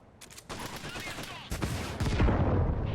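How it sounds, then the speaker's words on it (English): Rockets fired at the player at close range in the video game Caliber. Heavy whooshing blasts and explosions build in loudness, with a sharp impact about halfway through and a dense roar at the end. "I'm going to show you what it feels like to be on the receiving end of these rockets"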